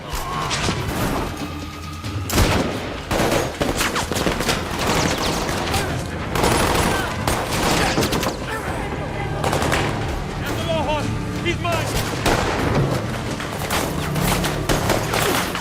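Dense, loud gunfire barrage from a film scene, with rapid bursts and heavy impacts throughout, mixed with crashes and voices shouting over the chaos.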